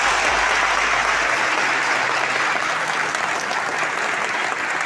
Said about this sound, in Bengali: তাহলে সবাইকে একবার জোরে হাততালি দেবো ওনাদের জন্য।